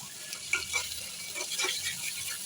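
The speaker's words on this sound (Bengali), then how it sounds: "নাড়াচাড়া নাড়াচাড়া করে নিচ্ছি জাস্ট রসুন পেঁয়াজগুলো যেন মিশে যায়" Garlic and onions fry in a pan as a spoon stirs them, with soft repeated scraping strokes over a quiet, steady sizzle.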